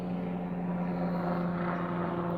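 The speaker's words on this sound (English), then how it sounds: "Got a helicopter going by." A helicopter passes overhead as a steady, continuous drone with a strong low hum, holding even and moderately loud throughout with no talk.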